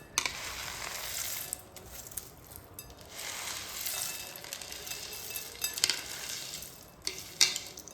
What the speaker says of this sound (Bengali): আওয়াজ শুনেই বুঝতে পারছেন কত সুন্দরভাবে ভাজা হয়েছে।